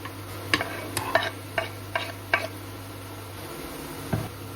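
Mushrooms stirred in a frying pan, giving a handful of soft, spaced scraping and squishing strokes over a steady low hum, close up and fairly quiet.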